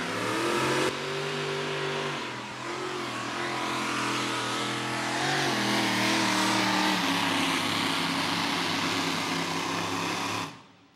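At an outlaw pulling event in Wisner, Nebraska, a modified pulling tractor running three Chevy engines roars loud and sustained. The engines build and swell in pitch before cutting off abruptly at the end.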